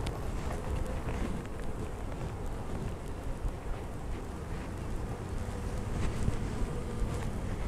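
Honeybees buzz around a hive in a steady, dense drone, with some wind rumble mixed in, continuous and moderately faint with no talk.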